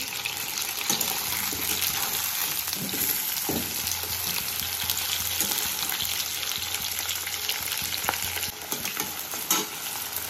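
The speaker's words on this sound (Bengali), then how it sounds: "আলু দিয়ে আমি 2 মিনিট মতো ভাজবো।" Potatoes fry in a pan with a dense, continuous sizzle and occasional stirring clatter, close and loud throughout.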